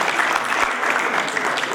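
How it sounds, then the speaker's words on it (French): Audience applause filling a room at a French-language talk on quality management, steady, dense clapping throughout with no voices on top. "On l'applaudit."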